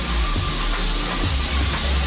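A paint spray rig sprays steadily close up, giving a loud constant hiss with a low mechanical rumble underneath throughout and no talking.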